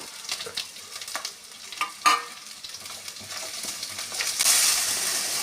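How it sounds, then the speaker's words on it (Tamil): Close-up sizzling of chopped small onions and green chillies sautéing in a pan, with intermittent scraping and stirring sounds over a steady crackle. "நறுக்கிய சிறிய வெங்காயத்தை சேர்த்து நன்கு 5 நிமிடம் வதக்கவும்."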